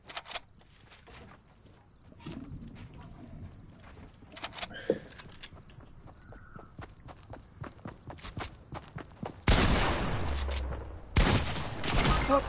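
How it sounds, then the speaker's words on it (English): Sustained gunfire in a video game fight, with scattered shots and clatter building into two loud, dense bursts of rapid shooting near the end. "so I'm getting shot at now."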